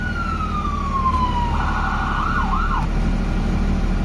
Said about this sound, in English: The EMS, the police, and the fire departments put their sirens on